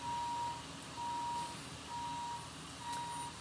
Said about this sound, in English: There is a construction truck right outside my window.